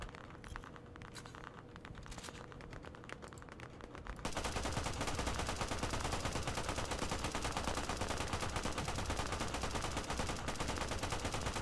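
Continuous machine-gun fire in Operation: Harsh Doorstop during a US assault on Omaha Beach. After a few seconds of quieter scattered shots, a dense, loud stream of rapid automatic fire runs without a break to the end.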